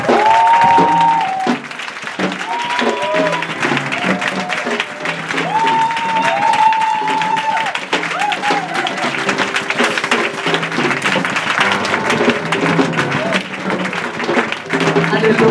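A church congregation at a Sunday service applauds a guest prophetess: dense, sustained clapping from a large crowd, loud and continuous throughout, with voices and sung or shouted tones running under it.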